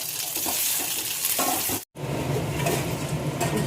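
Whole cumin and ginger paste frying in a pan, a steady close crackling sizzle with light stirring scrapes, cut by a brief silent gap before the sizzle resumes, no voices.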